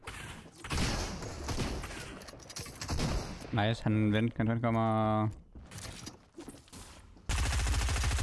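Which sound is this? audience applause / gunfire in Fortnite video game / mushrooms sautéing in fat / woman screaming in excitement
gunfire in Fortnite video game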